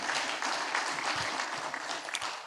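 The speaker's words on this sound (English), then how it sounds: "We must give him an applause." An audience at an anti-money-laundering sensitization workshop applauds the president, a dense, continuous patter of clapping from many hands that holds steady at moderate volume, with a few louder claps near the end.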